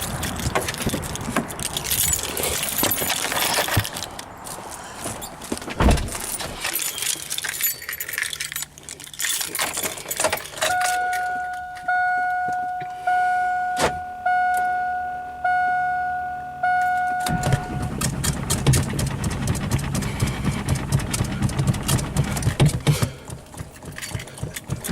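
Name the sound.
Duramax diesel Silverado 3500 engine cranking and starting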